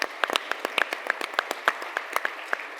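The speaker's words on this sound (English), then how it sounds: "So all the sponsors, let's give them a round of applause." Sparse applause from a small audience at a business event on data centers, scattered individual claps rather than a full ovation, moderately close and heard alone.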